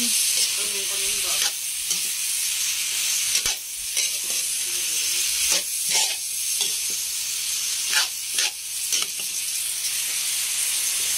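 Kangkong (water spinach) sizzles in a hot pan while a spatula stirs it, sending repeated scraping and clattering strokes over a steady close hiss, with no one talking.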